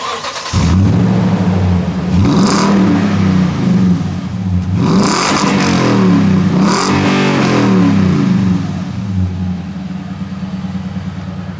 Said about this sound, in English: Maybe you could rev it a couple times for me.